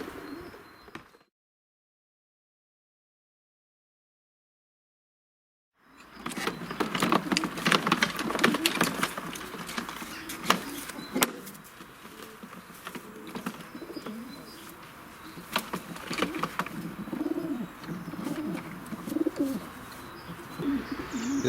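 Homing pigeons coo softly in a loft, low throaty murmurs repeating over faint rustles and sharp taps after a brief silent gap near the start.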